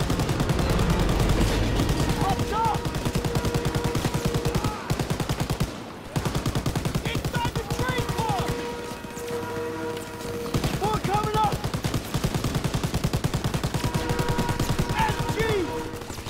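Rapid bursts of gunfire from World War II weapons in Call of Duty WW2, sustained and loud with brief pauses between volleys, mixed with game music and occasional speech.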